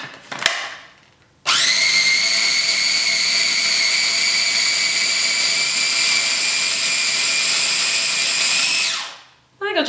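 A blender runs steadily for about eight seconds grinding leaves in oil, a loud continuous high whine that cuts in abruptly and winds down at the end, with brief clatter before it starts.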